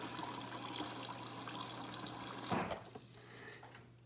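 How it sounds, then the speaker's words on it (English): Steady rushing water flows continuously as it purges through a Frigidaire refrigerator water filter line into a cup, then the stream shifts and softens near the end. "And continue to purge the water."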